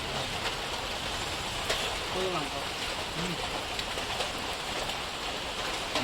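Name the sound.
wind and rain during outdoor cooking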